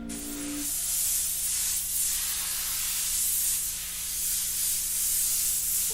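Airbrush spraying paint: a steady, close, airy hiss that starts after a brief hum and holds on, swelling slightly, with no talk.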